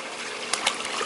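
Water splashing in a backyard pool, a steady broadband wash of splatter with two small splashes standing out, close and fairly loud, with no talk over it.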